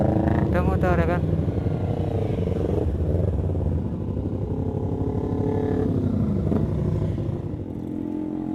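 A motorcycle engine idles and revs nearby, a steady rumbling drone with a few brief throttle rises, under people talking.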